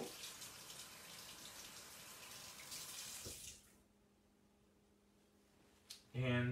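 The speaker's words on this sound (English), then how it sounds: "I have to rinse my hands a little bit of all that dough" Tap water runs steadily and splashes in a sink while hands covered in fry bread dough are rinsed, then the water shuts off into quiet. A brief voice follows at the end.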